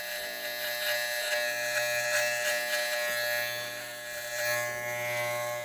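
Cordless Andis T trimmer on a fade and beard trim, a close, steady electric buzz that wavers slightly as the blade moves, with no talking.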